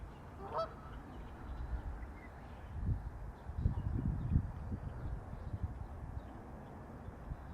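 Geese on a pond honk faintly in the distance, a few brief calls over a low outdoor rumble, with soft handling noise in the middle.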